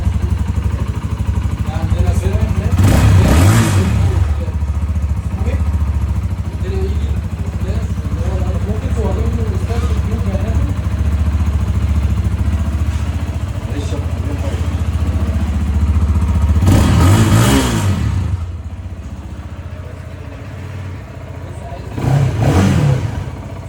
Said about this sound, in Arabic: ده صوت الاكزوست، هنسمعوه بقى